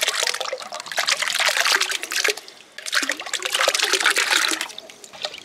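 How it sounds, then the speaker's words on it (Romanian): Cans of dog food drop and splash into a large container full of water, a close, busy sloshing and trickling that pauses briefly and then starts again. "Avem așa un recipient mare plin cu apă și în el o să punem 3 cutii de mâncare de câine"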